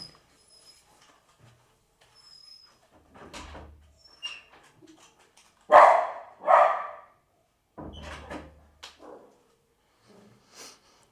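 A dog wanting to go out gives a few scattered barks and snorts indoors, with a door sliding and soft thumps in between, set against mostly quiet room sound.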